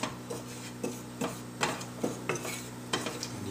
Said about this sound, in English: We're just going to give that a quick roast on the stove top to release some of the essential oils and kick up the flavor a little bit.